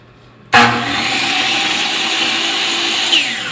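A power tool bursts on abruptly and whines loudly for about three seconds, close up, as it trims a wooden board for a treasure chest, with a slight pitch change near the end.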